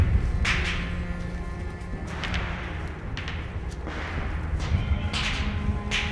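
Several diffuse bursts of gunfire ring out at intervals during Navy SERE survival training in the woods of Rangeley, Maine. The reports sound distant and muffled over a steady outdoor rumble.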